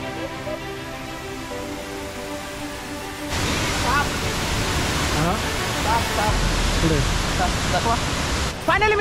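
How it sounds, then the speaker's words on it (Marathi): Milky Bar waterfall in the Sahyadri hills roaring with a steady broadband rush that swells in partway through, while a voice talks over it; quieter tonal sound precedes the water noise. "फायनली मित्रांनो, आपण येऊन पोहोचलो आहोत मिल्की बार धबधब्याजवळ."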